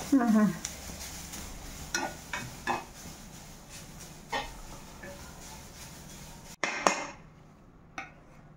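Fresh grated coconut is roasted and stirred in a pan for rava laddu, with a quiet background sizzle broken by scattered scrapes and knocks of the spoon against the pan, and a voice speaking at times.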